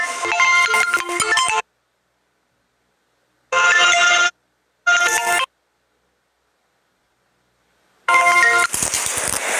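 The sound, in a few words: telephone ringtone, incoming call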